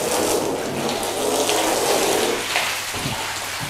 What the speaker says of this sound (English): I'll change the hose pattern and we'll try and literally try and dry them using the water